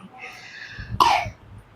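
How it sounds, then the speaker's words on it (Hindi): A single sharp cough bursts out close by, preceded by a soft breathy murmur. "खांसी आ गई"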